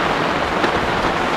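Heavy rain pours onto a zinc roof over an outdoor cooking area, a dense, loud and unbroken hiss with no voices over it.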